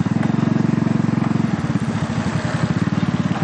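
Motorcycle engine while riding, a steady close pulsing putter with a rapid regular firing rhythm, loud and continuous, slightly shifting in pace partway through.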